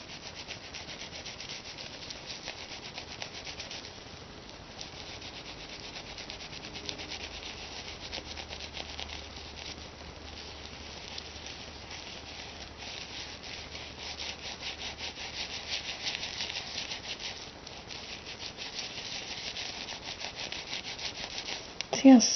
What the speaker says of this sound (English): I like to rub it on the inside of my palm.